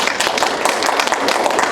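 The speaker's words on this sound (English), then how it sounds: "If you guys can give them a round of applause." An audience gives a round of applause, dense continuous clapping at steady loudness from many hands throughout.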